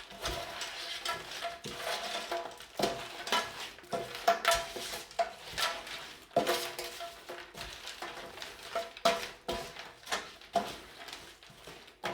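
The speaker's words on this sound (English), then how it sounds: "we give it a quick mix, so we don't mix it too hard, so we just mix it up" Ground pork and apple sausage meat worked briefly by hand or spoon in a bowl, giving soft, squelchy stirring and irregular scraping knocks throughout, fairly close, with no talking.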